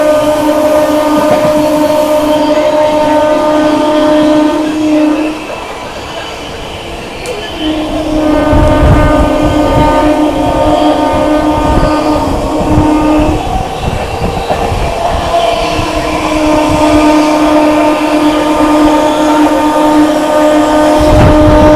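Howrah Rajdhani Express of Eastern Railway thundering past at 130 km/h, a loud, sustained roar of wheels and carriages with clattering rail noise, steady tonal hum and a brief dip before the rush resumes.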